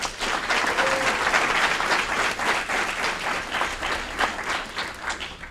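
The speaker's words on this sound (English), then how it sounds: "Let's give them a round of applause." An audience at a city committee meeting breaks into steady applause, many hands clapping in a dense, even wash that lasts several seconds at moderate volume.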